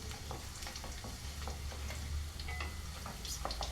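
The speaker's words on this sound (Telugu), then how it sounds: "పోపులన్నీ మనకి చిటపట అంటున్నాయి కదా." Mustard seeds, dried red chillies and other spices tempering in hot oil for a tomato pickle, giving a dense, continuous crackle with rapid small pops and a low frying hiss throughout.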